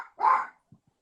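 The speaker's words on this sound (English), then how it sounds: "You can let her bark." A pet dog named Jackie lets out one short, fairly close bark indoors, followed by a couple of faint soft thumps, with no talking over it.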